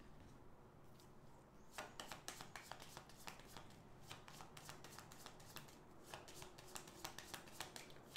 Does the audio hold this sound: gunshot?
no